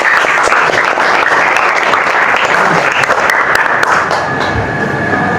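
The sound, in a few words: audience applause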